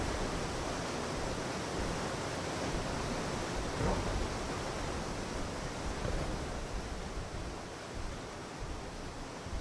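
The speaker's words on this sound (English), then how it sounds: "Okay, waterfall." Waterfall in the video game Atlas: a steady, dense rush of falling water, broad and unbroken, moderately loud with no voices over it.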